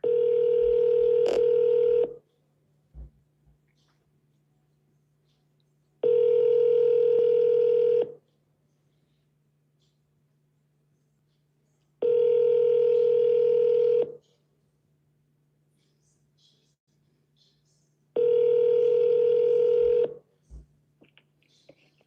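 Telephone ringback on an outgoing call to a for-sale-by-owner seller: four loud, steady tone bursts of about two seconds each, spaced roughly six seconds apart, with near silence between them.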